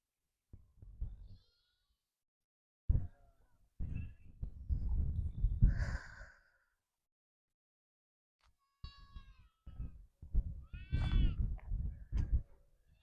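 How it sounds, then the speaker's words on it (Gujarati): Sheep and goats, with their small young, bleat in a few short bursts separated by quiet gaps in a farm field, some high and wavering, fairly close by. "ઘેટા બકરા હે ઓલી બાજુ જો એના બચ્ચા હે નાના નાના"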